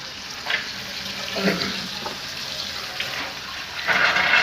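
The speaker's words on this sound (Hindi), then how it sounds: "तो हल्का सा इसके साथ पानी डाल देना है।" Water poured into a pan of cooking gravy, a soft splashing and gurgling over a constant background hiss, with a few brief spurts and a louder pour at the end.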